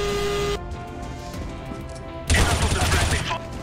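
Gunfire in the online shooter CS:GO on the Santorini map, a burst of rapid shots near the end following quieter game sounds, loud and close.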